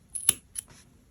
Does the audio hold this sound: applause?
no